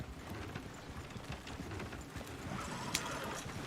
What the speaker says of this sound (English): Horses! Damn horses!